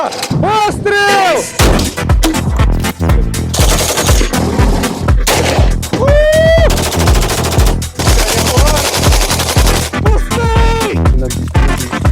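A Ukrainian-made compact infantry grenade launcher fires in loud, dense, repeated bursts, the blasts and echoes crowding one another close by.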